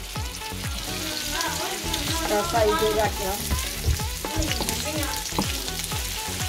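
Dried red chillies sizzle and crackle steadily in hot oil in a pan, close and constant, with occasional stirring. A few brief spoken words come over the sizzling.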